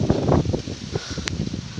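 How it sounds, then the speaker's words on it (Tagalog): Strong wind gusts outdoors in Saudi Arabia, rushing and rustling close to the microphone in uneven bursts, with a brief sharp knock partway through. "Lalo na mahangin guys, ang lamig."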